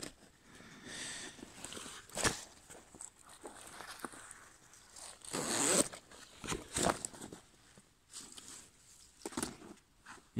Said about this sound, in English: And these are YKK zippers.